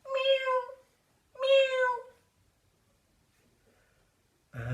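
A voice imitates a cat with two drawn-out meows separated by a pause, close and clear.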